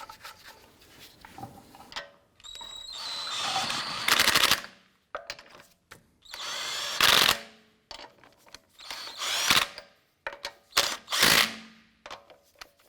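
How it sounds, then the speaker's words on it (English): Ratchet wrench snugging down lug nuts on the front wheel of a 2004-2008 Acura TL, heard as loud bursts of rapid clicking separated by short pauses, close by with no talking. "Get our lug nuts all started by hand first, and then we'll snug those down."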